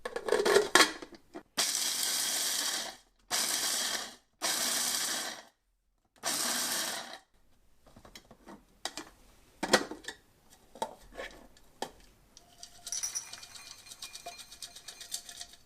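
Philips small food processor pulsing nuts in short bursts, four loud whirring blade pulses separated by silence, followed by rattling and clinking of the bowl and lid.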